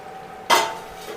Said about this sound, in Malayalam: നല്ല രീതിയിലൊന്ന് ഇളക്കി മിക്സാക്കി എടുക്കണം.